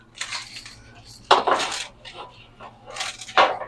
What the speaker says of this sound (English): Let me move this hot pan.